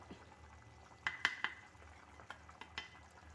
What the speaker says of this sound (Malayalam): ഇട്ട് നല്ലതുപോലെ ഇളക്കുക